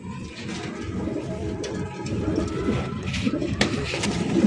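King pigeons cooing in a loft, low soft repeated coos close by over a bed of rustling and background noise that grows a little louder toward the end.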